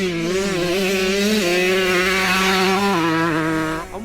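Motorcycles, including a two-stroke bike, racing on a track, a loud continuous engine whine holding high revs and shifting pitch, close and dominant with no talk.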